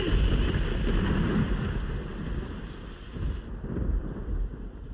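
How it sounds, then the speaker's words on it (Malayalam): Thunderstorm with pouring rain as a drama sound effect: low rumbling roar and dense rain wash, loud at first, easing slightly midway, then swelling again, with no voices. "ഇടിവെട്ടി പെയ്യുന്ന ഈ മഴ"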